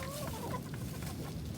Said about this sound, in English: I have 5 chickens.